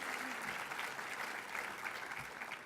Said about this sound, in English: You can give them a round of applause if you like.